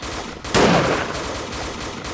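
Machine gun in a co-op World War II style shooter game, a sudden burst of loud gunfire starting midway and sustained with a dense rattling roar.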